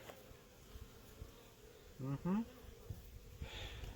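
A low, droning buzz of many honey bees at an open hive, close and steady, with a couple of louder passes near the microphone.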